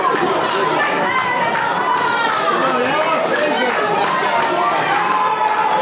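A packed wrestling event crowd roars and cheers continuously, a dense wall of chatter and shouting that stays loud and steady throughout with no single voice standing out.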